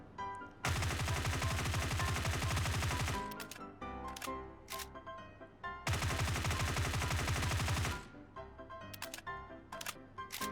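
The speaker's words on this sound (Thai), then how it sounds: "เดี๋ยวเรามาลองยิง UMP กันนะครับ แบบยิงแบบตรงๆ โดยที่เราไม่ได้คุมปืนนะ โดยที่เราใส่เลเซอร์นะ" UMP submachine gun with a laser sight fired in a video game: two long, loud, rapid automatic bursts of several seconds each, separated and followed by a handful of short single shots and brief clicks.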